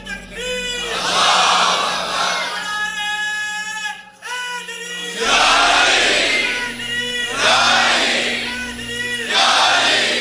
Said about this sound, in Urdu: نوجوان نعرے لگانے لگ گئے